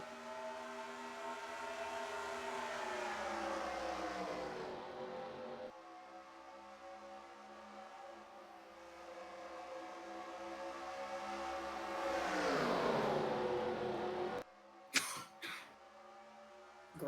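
Stock cars from NASCAR Racing 2003 roar off at the green flag at Denver Motorsports Park, a dense layered engine drone with rising pitch sweeps as the pack accelerates, ending in a few sharp clatters.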